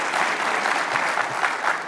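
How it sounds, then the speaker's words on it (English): Audience applause at a mayor's opening address in Oklahoma City, a steady dense wash of clapping from a crowd filling the whole moment without pause. "Yes, go ahead and applaud."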